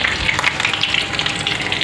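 Onion and masala fry in hot oil for a chicken dish, a loud, close, continuous sizzle with crackling bursts and no voices.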